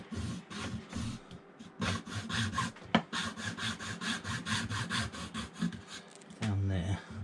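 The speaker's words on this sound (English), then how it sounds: "I'll just get a junior hacksaw" A junior hacksaw cuts slots in a Volvo Penta D1/D2 air filter, giving quiet, rapid back-and-forth rasping strokes in steady rhythm with brief pauses.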